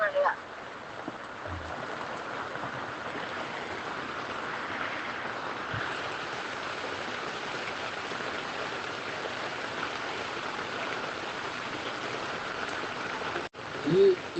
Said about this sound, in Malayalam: ഇപ്പൊ ഭയങ്കരമായിട്ട് മഴ വന്നു.